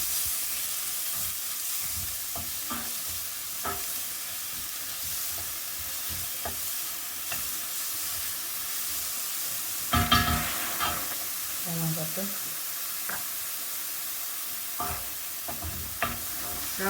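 Onions and fennel sauté in a pan with a constant soft sizzle and hiss, broken by occasional stirring scrapes and utensil clinks near the pan.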